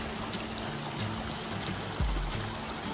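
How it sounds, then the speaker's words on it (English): Mountain creek trickling through Snow Creek meadows in the Enchantments of the Washington Cascades, a steady broadband wash of running water with a brief louder low thump near the end. "since there's a beautiful creek that runs through it"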